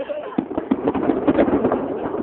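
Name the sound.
fireworks exploding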